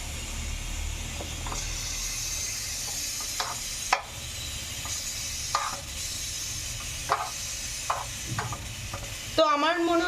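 Cooked pasta is stirred into a sizzling sauce in a pan, with a steady fry hiss under scattered scrapes and clinks of the spoon, ending in a louder clatter.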